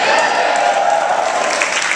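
Theater audience applauding at a Castro Theater Q&A, a dense, steady wash of many hands clapping throughout, loud and close with crowd noise mixed in.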